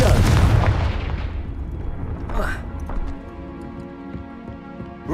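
A Confringo blasting curse from the Hogwarts Legacy game erupts as a loud, close burst that rumbles and fades over a few seconds, followed by lighter clicking effects, with a voice briefly present.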